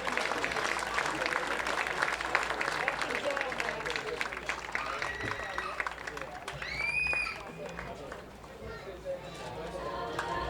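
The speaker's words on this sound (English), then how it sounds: "can we get a big round of applause for everyone who made tonight such a successful" Crowd applause at a college summer-league baseball all-star game, a long spread of outdoor clapping from a sizable crowd that eases slightly midway, with speech and a brief whistle-like tone around the middle.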